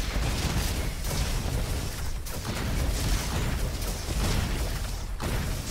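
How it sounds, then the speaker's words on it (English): Explosions from the baby boom weapon in the ROBOQUEST video game go off in several loud, dense bursts amid continuous chaotic combat noise, with no talk heard. "See, it does 2 explosions sometimes, which is cool."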